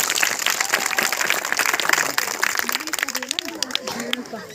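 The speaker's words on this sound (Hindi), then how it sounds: "तनी ताली बजा दो लोगों" Village crowd clapping at a street magic show, a busy burst of applause that fades into loose scattered claps while a voice talks and chatter rises over it.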